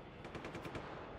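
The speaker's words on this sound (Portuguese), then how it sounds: "Calma, isso aqui é tiro." Rapid machine gun fire from the open-world action game Just Cause 3, a quick burst of about six to eight evenly spaced shots over a steady background of game sound, moderately loud and without talk.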